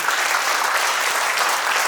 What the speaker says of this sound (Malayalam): നല്ലൊരു കയ്യടി കൊടുക്കാൻ.